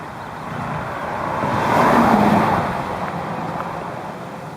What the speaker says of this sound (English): Other side of the road, some of the cars there, bombing it along.